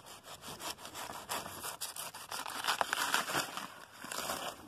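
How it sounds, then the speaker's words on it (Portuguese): A banana plant stalk is being cut with a blade, giving a quick series of rough rasping, sawing strokes through fibrous plant tissue. The sound is close and crisp, and no one talks. "Aí, cortei a bananeira."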